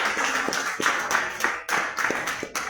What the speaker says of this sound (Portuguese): As palmas recebendo o pastor.